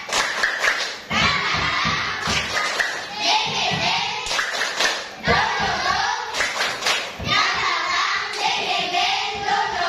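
A school class performs the tepuk semangat clapping routine with their teacher: rhythmic patterns of claps and thumps come in repeated bursts with short gaps between them, and children's voices chant along.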